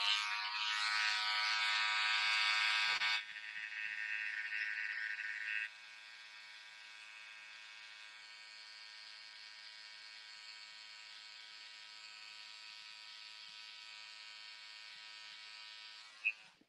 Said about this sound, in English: what I'm using is the Cordless Detailers LI, and these come very sharp, so you gotta be careful when you're using these trimmers.